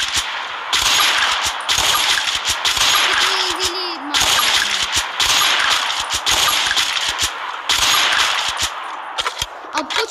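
Gunfire from a weapon in the mobile shooter Free Fire: loud bursts of rapid automatic shots in repeated volleys, separated by short pauses and a reload sound.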